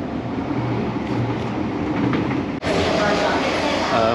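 Driverless Disneyland Resort Line metro train in Hong Kong rolling along single track, a steady loud rumble with rail noise throughout and a brief dip before the roar resumes.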